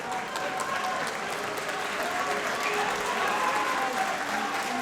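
A Geordie wrestling crowd at a Newcastle show cheers and applauds, dense sustained clapping and shouting filling the hall at an even level throughout.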